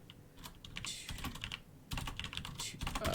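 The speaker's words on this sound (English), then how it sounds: "sorry if the typing is really loud. I have a mechanical keyboard and it's right next to my mic" Rapid clattering keystrokes on a mechanical keyboard sitting right beside the microphone, loud and close, coming in uneven bursts with a brief pause in the middle and no voices.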